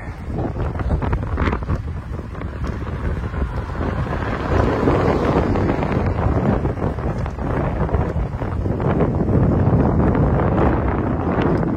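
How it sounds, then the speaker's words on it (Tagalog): Strong wind buffets the microphone in loud, continuous roaring gusts that swell and rumble throughout, outside a concert venue at Okada. "Sarap, ang lakas ng hangin."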